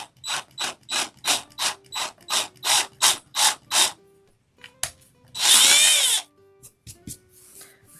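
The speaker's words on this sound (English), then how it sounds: "I'm going to go ahead and get my drill out." A ratcheting power drill clicks in a run of about a dozen evenly spaced bursts, then whirs loudly for under a second while drilling.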